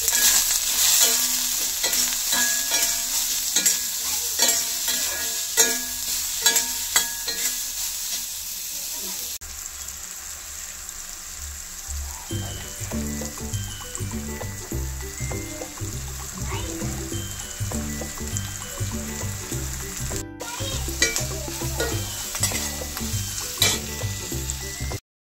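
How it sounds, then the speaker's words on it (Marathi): Sliced onion roasting with a little oil and salt in a pan over low gas, a steady sizzle broken by repeated scraping and stirring strokes, close and continuous, with brief talk faintly underneath. "तर आता छान मंद गॅसवर कांदा भाजून घेऊया।"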